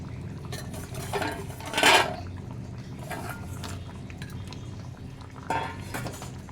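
A pot of fish curry with okra and potatoes bubbles softly, with a few clinks of a utensil against the pot and gentle stirring, fairly quiet and close with no talking.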